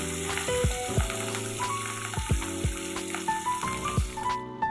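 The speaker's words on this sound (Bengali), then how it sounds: "এবার আমি মাছটা কড়াইয়ে ছেড়ে দেবো, একটা করে দিয়ে ভেজে নেব।" Rohu fish pieces go into hot oil in a wok one at a time and fry with a loud, close sizzle, with sharp crackling bursts at intervals over a constant hiss.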